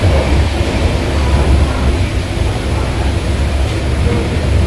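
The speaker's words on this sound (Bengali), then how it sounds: "এই জাস্ট বাঁকুড়া স্টেশন থেকে বেরোচ্ছে ট্রেন" Inside a crowded train pulling out of Bankura station on a service bound for Ranchi, a loud continuous low rumble and rattle fill the carriage, with faint voices mixed in.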